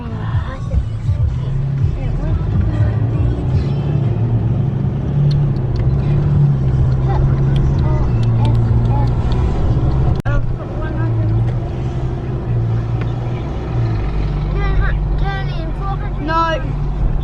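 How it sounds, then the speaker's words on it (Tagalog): Inside a car crawling through city street traffic, a steady engine drone and road rumble hold throughout, with passing vehicles mixed in. Voices murmur softly in the background. "Traffic."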